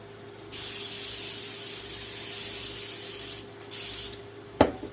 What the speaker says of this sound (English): let's spray us a pan